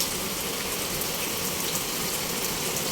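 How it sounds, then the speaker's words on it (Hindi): Heavy monsoon rain pouring down steadily, a dense, loud broadband hiss and splatter that continues unbroken throughout with no voices. "बहुत तेज़ आ रही है बारिश"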